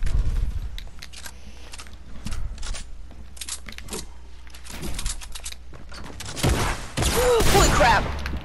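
Gunfire in Fortnite gameplay crackles as scattered sharp shots, then a denser, louder burst of firing and effects near the end.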